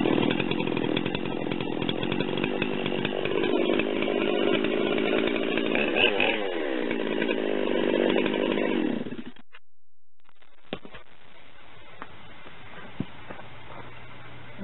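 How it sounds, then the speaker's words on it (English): Chainsaw started with a West Coast style drop start, running loud and close with steady revving for about nine seconds before cutting off, followed by quiet. "That started up nicely"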